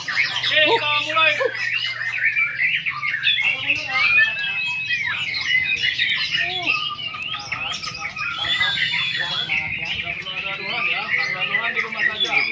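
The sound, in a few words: white-rumped shama (murai batu) singing at bird contest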